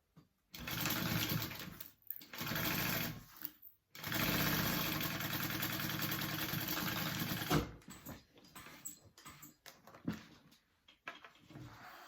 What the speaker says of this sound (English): now I'm going to baste my flap on.